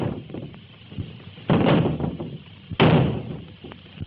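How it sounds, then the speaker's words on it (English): A door being forced and broken down, with two heavy slamming impacts about a second apart, loud and close, between quieter knocks and shuffling. "Help me get this door down."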